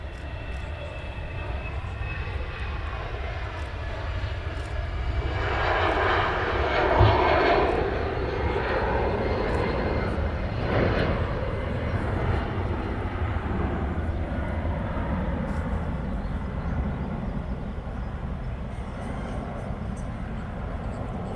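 An airliner rolls down the runway on takeoff at Manchester Airport, a broad steady engine roar heard from a distance that swells in the middle and stays constant, with no talk over it.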